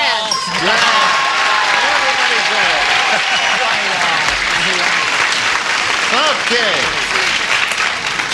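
A studio audience on the 1979 game show Match Game breaks into loud, sustained applause that carries at full volume for the whole stretch, with a brief spoken word heard over it.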